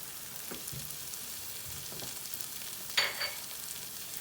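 Panch phoron and black mustard seeds frying in oil for an Odisha-style fish curry, a soft steady sizzle with occasional faint pops and a brief clink of a utensil.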